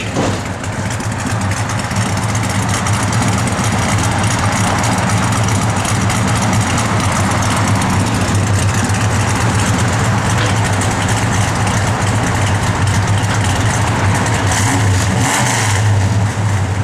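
A deep, powerful V8 engine of a 1971 Dodge Super Bee rumbles steadily close by, loud and continuous throughout, with no talking.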